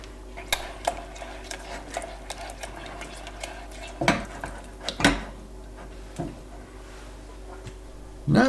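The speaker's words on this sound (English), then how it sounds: "I'll just give it a good stir." A utensil stirs brownie batter with eggs in a bowl, giving scattered clinks and scrapes against the bowl at an uneven pace, close and moderately quiet, with no talk.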